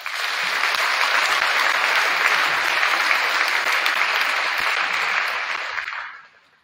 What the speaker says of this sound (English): please give those boys a round of applause